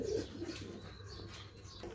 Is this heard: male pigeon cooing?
yes